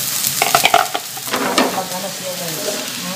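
Sweet potato hitting the oil in a wok sets off a sizzling, frying hiss, with a few sharp stirring clanks early on before the crackle settles into a steady, moderately loud sizzle.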